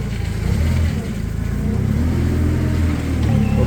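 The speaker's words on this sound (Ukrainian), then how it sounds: "Так, їдемо далі. Трохи підійму вили, зняв зі стояночного тормозу." A gas-powered 2018 Toyota 02-8FGF25 forklift engine runs steadily close by, a continuous low mid-range drone with slight swells as the machine pulls away after its forks are raised and parking brake released.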